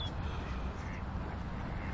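Ducks quack in Central Park in Burnaby, BC, their calls mixed into steady outdoor rumble and background noise as the birds gather nearby.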